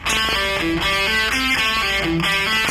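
Distorted electric guitar plays a fast repeating triplet lick, the same short phrase cycling several times, loud and up front.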